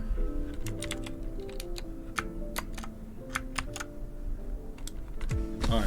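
Keys clack on a Clix Cotton Candy 60% mechanical gaming keyboard in a run of sharp, close strokes with uneven spacing over a low background hum.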